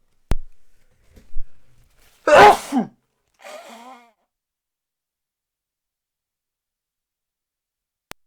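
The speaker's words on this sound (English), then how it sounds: "I need to sneeze" A single sharp sneeze bursts out, preceded by a short breathy intake and followed by a faint sniffly exhale, close to the mic in otherwise quiet surroundings.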